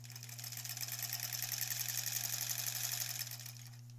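A sewing machine stitches quilt backing for a granny squares quilt, running with a rapid, even mechanical whir and a low motor hum, close and faint, easing off at the end with no speech.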